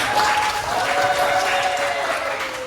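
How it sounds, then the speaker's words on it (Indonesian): Classroom applause for Bianca and her partner, a steady round of clapping from students with a thin tonal hum beneath it. "kasih tepuk tangan dulu buat Bianca dan pasangannya"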